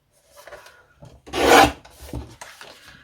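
Paper being trimmed to size for a handmade album page, a few soft rasping cuts with one louder scraping stroke in the middle, close and alone.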